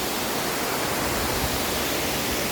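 Dunumala waterfall pouring steadily, a dense unbroken roar of falling water, loud and close with no other sounds.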